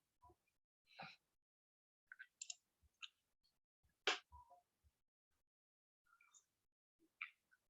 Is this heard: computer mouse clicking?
yes